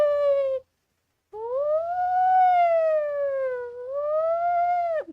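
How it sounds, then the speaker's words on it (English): A wailing siren rises and falls in long sweeping tones, with a brief gap near the start, loud and clear with no talking. "They hear police sirens."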